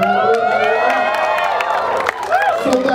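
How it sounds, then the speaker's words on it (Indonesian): Audience cheering and clapping at a press screening of the Indonesian superhero film Sri Asih, with a steady loud crowd roar, whoops and shouts throughout, voices mixed in. "Ibu Kris, silahkan tepuk tangan dong sekali lagi."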